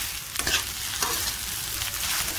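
Sabudana khichdi without potato is stirred and tossed in a hot pan, giving a steady close sizzle with a few scraping strokes of the spoon.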